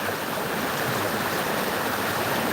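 McMillian Creek flows steadily nearby with a dense, continuous rushing hiss of moving water, uniform in loudness with no voices.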